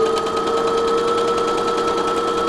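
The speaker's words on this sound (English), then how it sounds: "You're going to stitch down the side." Sewing machine running steadily while stitching down the side of a fabric face mask with elastic, a constant mechanical whir with a fine rapid needle rhythm, close and continuous throughout.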